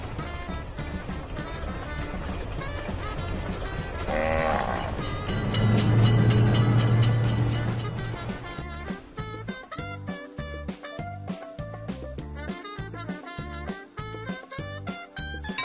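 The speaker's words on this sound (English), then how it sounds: "Attention, train is coming." A train in the video game Railroad Crossing by Studio WW Games rumbles past amid busy music, a low horn-like drone swelling in the middle before rhythmic clattering takes over.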